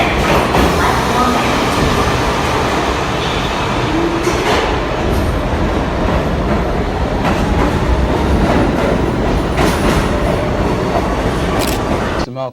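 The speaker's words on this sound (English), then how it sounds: "The next uptown train is now arriving on the express track." A subway train pulls into an uptown express platform with a loud, continuous rumble and rattle of wheels on track, broken by brief squeals and clicks, holding steady for about twelve seconds before cutting off abruptly.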